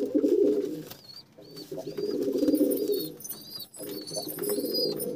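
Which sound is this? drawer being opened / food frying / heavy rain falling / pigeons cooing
pigeons cooing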